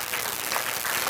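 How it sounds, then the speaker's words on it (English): A lunch meeting audience applauds someone for her fundraiser work, a short burst of dense clapping from a room of people. "if we could all give Karen a round of applause for all the work that she did for our"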